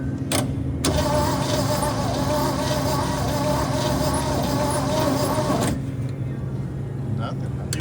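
A 1972 GMC C10 truck engine cranks over in a loud, close, churning burst lasting about five seconds, with sharp pops at the start and end, inside a rough idle-like rumble.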